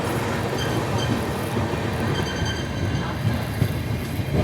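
The Mumbai Hyderabad SF Express, number 22732, rolls along toward Hyderabad Deccan with a steady, dense rumble of wheels and carriage noise and no voices.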